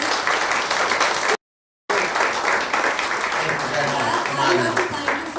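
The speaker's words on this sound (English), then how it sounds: "please can we all give a huge round of applause for Brad" Crowd applause for Brad Cohen at a public event, dense continuous clapping from a large audience, cut briefly by a gap of silence before resuming loud and sustained.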